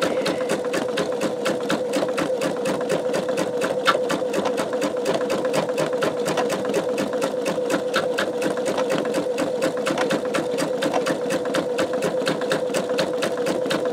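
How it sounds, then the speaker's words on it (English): A machine stitching a greeting card whirs in a loud, steady, close drone with rapid regular needle beats, continuous and unbroken, with nobody speaking. "We've got about 5 more minutes of this stitching"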